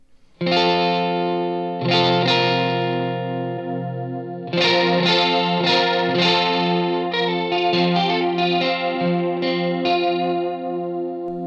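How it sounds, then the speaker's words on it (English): Electric guitar chords ring out through the shimmering detuned chorus of an Electro-Harmonix Pitch Fork polyphonic pitch shifter's detune setting, struck several times and left to sustain, loud and close with a slightly distorted edge. "we'll start off at the detune function, which is really like the modulation chorusy kind of sound"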